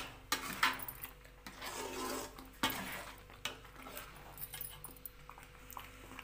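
Rava kesari, a semolina sweet, being stirred with raisins in a pan: soft rubbing and scraping of a spoon through the thick mixture, with a few louder knocks against the pan's sides, close and quiet.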